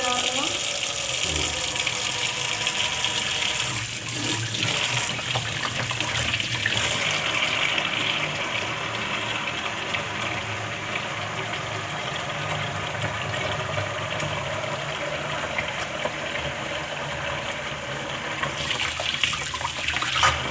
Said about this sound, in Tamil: வாங்க இதை வாஷ் பண்ணி பார்ப்போம்.